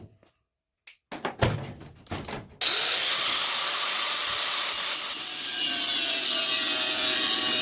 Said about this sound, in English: I'm going to cut a slit